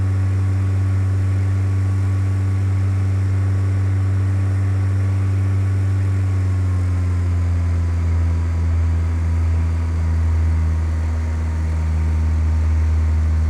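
A single-engine airplane in Microsoft Flight Simulator X drones steadily in cruise, its engine tone shifting slightly lower partway through as the throttle is eased back, continuous and close with no talking.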